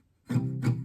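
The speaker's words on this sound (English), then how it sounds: "and that's with palm muting" Acoustic guitar chord strummed with palm muting, the strumming hand resting near the bridge: two short, muffled strokes with a damped, dull tone, close and alone.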